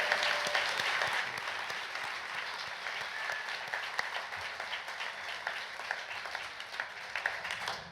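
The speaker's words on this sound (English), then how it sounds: "why don't we have a good round of applause for Ron Pierre and Laura Kunkel and Charlie" An indoor awards-ceremony audience gives a steady round of applause for the MCs, a dense, continuous patter of many hands clapping at moderate distance that holds evenly for several seconds.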